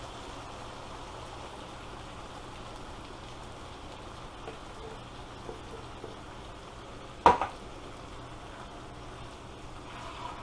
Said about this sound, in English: I'm going to put in the crushed tomatoes